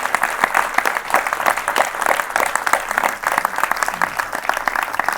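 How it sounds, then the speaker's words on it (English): A crowd gives Dr. Jane Goodall a big round of applause after a film screening and Q&A evening, loud, dense and continuous clapping filling the room without a break. "I'd like to give a big round of applause to Dr."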